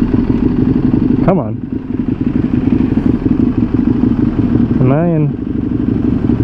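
Steady loud engine rumble from a motorcycle, an EBR 1190 or Kawasaki H2, idling close by with two short rising revs or gear clunks, while someone speaks briefly over it.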